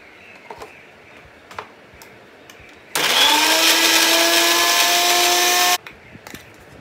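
A blender grinds ginger, garlic and chili into a paste in one loud, continuous whirring run of about three seconds, its motor pitch dipping as it starts, framed by quieter kitchen clicks before and after.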